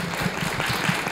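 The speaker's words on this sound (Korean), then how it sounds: "여러분 모두 뜨거운 박수 한 번 더 부탁드립니다" Audience applause at the close of an opening lecture for KU Gaechuk Village at Korea University, a short burst of steady clapping from a room of listeners, even and fairly close, with no voices over it.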